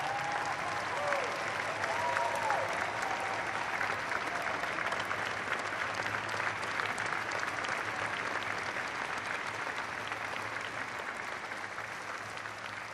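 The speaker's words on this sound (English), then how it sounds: "So would you join me in giving a vigorous round of applause to Commander Bob Behnken and Commander Doug" Vigorous applause from a large crowd honoring astronauts after a SpaceX launch, a sustained dense clatter of clapping with faint cheers and whistles, steady for the full stretch.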